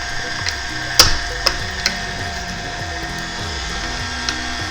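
Electric meat grinder working beef through a coarse grinding plate, a steady mechanical whir with a repeating low rhythmic churn, close by, broken by a few sharp knocks and clicks.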